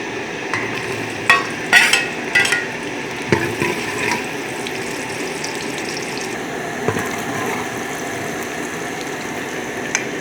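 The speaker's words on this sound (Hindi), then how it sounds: "देगची में घी डालेंगे। अब हम इसमें प्याज डालेंगे।" Onions go into hot ghee in a degchi pot and fry with a steady, close sizzle, while a few sharp utensil clatters and stirring knocks come early on.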